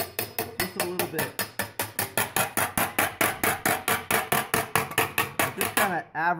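A claw hammer shrinks a tuck in sheet metal, a long run of steady, evenly spaced metallic blows, loud and close, about four strikes per second, ending in a short scraping sound.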